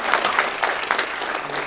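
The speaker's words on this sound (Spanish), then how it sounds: "Pones, le damos un aplauso." Audience applause after an agronomy project presentation, a steady wash of many hands clapping that carries evenly through the whole moment without any talk.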